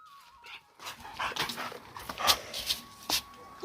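A dog barks and whimpers close by, giving short, sharp yips and a thin whining tone that break through a quieter background.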